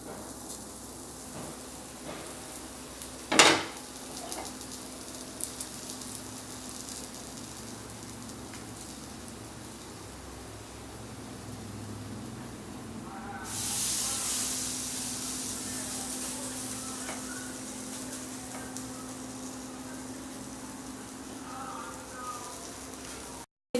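A batter-dipped snack fries in oil in a pan, giving a steady soft sizzle and hiss that swells louder partway through after a sharp knock, then settles into a continuous crackle.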